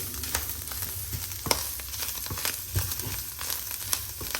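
Clams frying in a pan after a mustard seed and curry leaf tempering for a Kerala lunch: steady, close sizzling with scattered pops and crackles, no voices.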